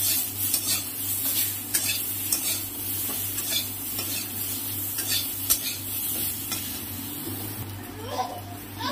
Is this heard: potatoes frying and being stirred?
yes